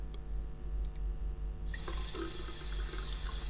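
Within the bathroom scene of the adventure game Der Fall John Yesterday, a cold water tap is opened partway through after a low steady hum, releasing a constant rushing, splashing stream into a sink.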